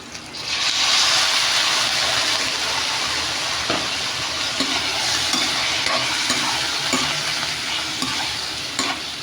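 Meat sizzles and fries loudly in a hot pan for a spicy Filipino adobo, a continuous crackling hiss with occasional stirring scrapes.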